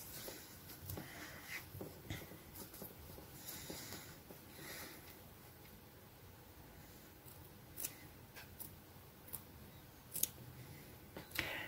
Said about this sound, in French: je prends des tout petits ciseaux